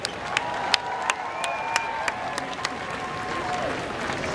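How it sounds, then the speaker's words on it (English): Crowd applause for a speaker at an outdoor rally, a steady wash of clapping with a few sharp, distinct claps and faint voices throughout. "Big round of applause for Norman Eve."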